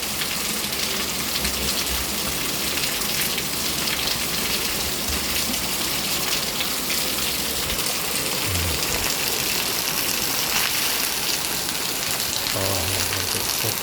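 Heavy rain pours down in Dakki, a dense, constant hiss of water with a few low thuds beneath it.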